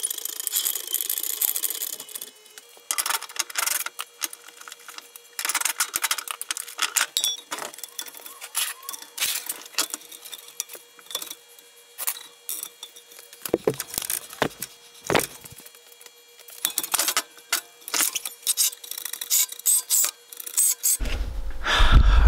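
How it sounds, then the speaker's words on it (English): Metallic clinks, ratcheting and wrench scrapes come from taking the subframe nuts off a Nissan 350z, arriving in irregular bursts with short pauses and ending in a sharper clunk. "all I gotta do is remove the 4 nuts that are holding the subframe in"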